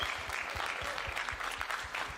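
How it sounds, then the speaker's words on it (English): A crowd at a combat-sports weigh-in applauds a guest who has been asked to stand, a steady wash of clapping heard from a distance, with faint low thumps running underneath it. "This guy deserves a round of applause"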